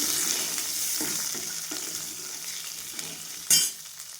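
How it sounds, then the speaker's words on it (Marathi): Fresh field beans roasting in oil in a kadai, a soft continuous sizzle broken by occasional scraping stirs and a sharper clatter toward the end. "आता याच कढईमध्ये आपल्याला दाणे भाजून घ्यायचे आहे"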